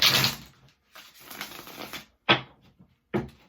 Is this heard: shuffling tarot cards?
yes